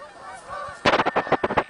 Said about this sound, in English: The geese are heading north.